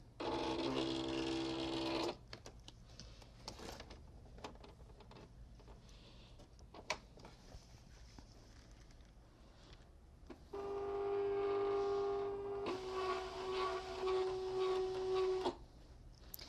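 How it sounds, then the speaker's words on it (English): Silhouette cutting machine feeding and loading material for an oversized canvas guestbook, with two bursts of steady mechanical motor whirring, one short at the start and a longer one later, and quiet handling sounds between them. "I'm going to load it again to make sure that I have it fed in correctly."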